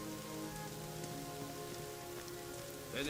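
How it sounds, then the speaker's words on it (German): Steady rain drumming on surfaces in the fantasy role-playing game Gothic 3, a dense, constant hiss with scattered drop patter that persists evenly throughout, with no voices over it. "Oh, es regnet."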